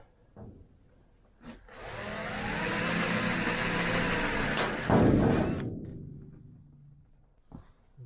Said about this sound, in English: I'm just going to drill a 3mm pilot hole in these corners.